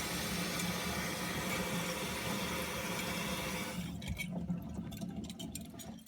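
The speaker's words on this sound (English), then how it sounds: "Once they've been rinsed off" Dental instruments are rinsed under running water, a steady broadband rush and splash that stays continuous, then grows choppier and more broken as the flow is disturbed.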